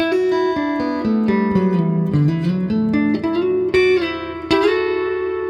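A short melodic guitar lick of plucked single notes, bending and sliding through a descending then rising phrase, clear and close with no talking.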